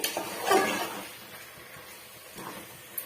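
A spoon stirs guinea fowl curry with masala in a pan, giving a few soft scrapes and light metallic clinks spaced apart, close but faint.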